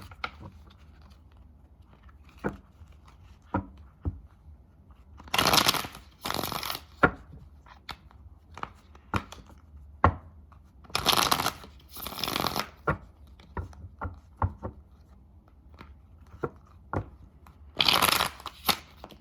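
Tarot cards are shuffled close up in several loud riffling bursts, separated by quieter clicks and taps of cards being handled, with no talk.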